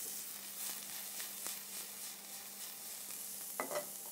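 Onion sizzles and crackles steadily in a hot pan, with a soft stirring scrape near the end and no voices.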